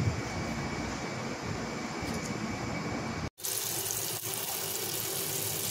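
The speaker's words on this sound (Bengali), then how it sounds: "বন্ধুরা, এবার আমি এই শাকটা জলে দিয়ে একটা সুন্দর সুন্দর করে ধুয়ে নেব।" Leafy greens are washed in water, with a steady, close rush of running water that cuts out for an instant and then carries on unchanged.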